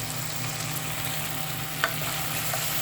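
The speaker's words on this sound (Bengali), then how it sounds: "আগে চিংড়ি মাছটা একটু কষিয়ে নিলাম" Prawns sauté in a hot pan for a bottle gourd dish, giving a steady, even sizzle with one brief sharp clink partway through and no voices.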